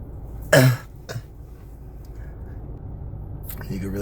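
Two short coughs from a 41-year-old man during an illness flare-up, the first harsher and louder, the second fainter about half a second later, with quiet room noise and a little background talk following.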